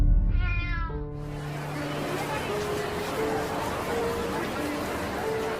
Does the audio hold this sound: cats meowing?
yes